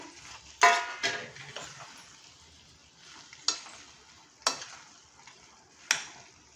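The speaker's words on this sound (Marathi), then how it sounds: "छान अशा आपल्याला ढवळून घ्यायच्या आहेत भाज्या व पनीर" Vegetables and paneer being stirred into a simmering gravy: soft scraping and sizzling with several sharp spoon knocks against the pan, fairly quiet, no talking.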